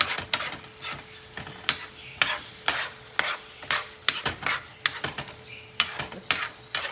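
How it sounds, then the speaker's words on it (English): A utensil stirs seasonings around a pan for shrimp spaghetti over a soft sizzle, with close, sharp scrapes and taps in an irregular, quick rhythm. "Just stir all those yummy seasonings around."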